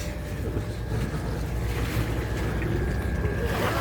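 Engine of a 2009 Beneteau 54 sailboat running at 2000 rpm, a steady loud low drone with water noise around it.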